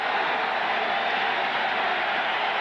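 A football stadium crowd at Lambeau Field in Green Bay rumbles on third down during a Jets–Packers game, a broad steady roar with no distinct claps or voices, unchanging and constant from start to finish.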